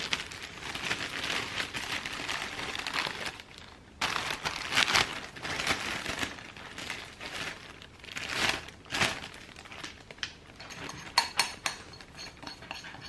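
Plastic bag crinkles and rustles in irregular bursts, close by, as chicken is marinated in it, with occasional clinks of utensils and no talking.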